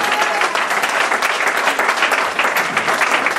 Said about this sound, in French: Est-ce que tu peux acclamer le Saint-Esprit?